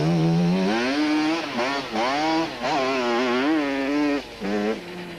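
Motorcycles and quads race through thick soft sand in a desert rally, with engines revving hard and rising and falling in pitch in close passes, loud and buzzing.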